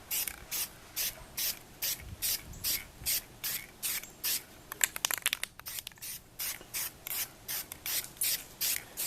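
Spray paint can shaken and sprayed onto an airsoft gun, heard as a steady run of short, evenly spaced hissing spray bursts with a brief rattling clatter partway through, fairly close and with no talk.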